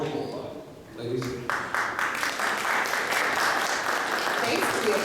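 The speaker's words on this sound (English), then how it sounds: "Thanks for the applause, everyone." Audience at a travel festival keynote in New York breaking into applause, a dense wash of clapping that swells after a brief murmur and holds steady to the end.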